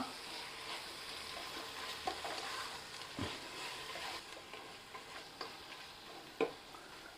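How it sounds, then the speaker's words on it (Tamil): Marinated prawns are stirred with turmeric and chili powder in a bowl, giving faint soft scraping, mixing sounds with occasional light clicks of the utensil against the dish. "இதை நல்லா கலந்து விட்டுக்கலாம்"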